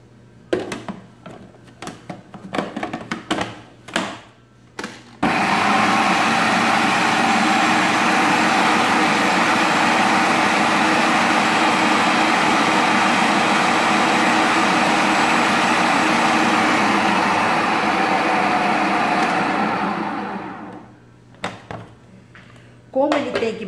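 Blender whirring steadily for about fifteen seconds, loud and close, mixing homemade hazelnut cream with corn oil, with clattering and someone talking before and after the motor runs.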